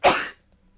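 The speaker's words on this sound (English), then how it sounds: "I was right, I sneezed." A single close, loud sneeze bursts out sharply and fades within about a third of a second, followed by near silence.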